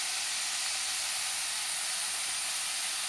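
Vegetables sizzle steadily in hot oil with a mutton and vegetable preparation, a constant bright hiss close by with no pauses and no voices.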